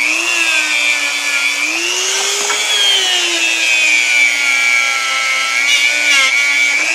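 Felt polishing wheel with compound buffing a machined interior component from a 1999 car, a loud steady high whine that rises slightly in pitch near the middle, continuous and close with no talk.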